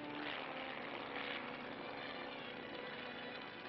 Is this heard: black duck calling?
no